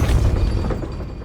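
A spell blast in the Hogwarts Legacy video game lands as a deep, loud boom with a rumbling low-end tail that fades over a second.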